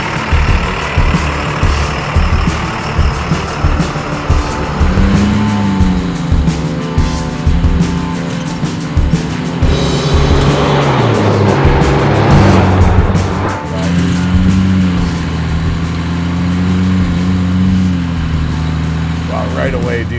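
A 1978 Squarebody dually truck swapped with a Cummins turbo diesel drives along, its deep engine drone rising and falling as it shifts and accelerates, with voices speaking over it inside the cab.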